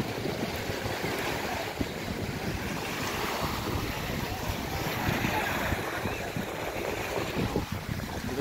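Strong sea waves break at a beach in Subic, Zambales, as a continuous loud wash of surf mixed with heavy wind buffeting the microphone, steady throughout.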